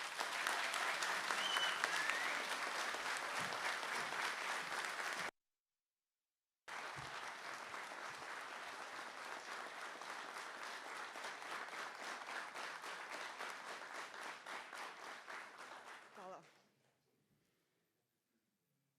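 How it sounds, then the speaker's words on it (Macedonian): Thunderous applause greets Teuta Mirto at a civic rally in Mavrovo Rostuše, a dense, even wash of many hands clapping that cuts out briefly, resumes just as strong, then fades to near silence at the end. "Да ја поздравиме, ве молам, со громогласен аплауз Теута Мирто."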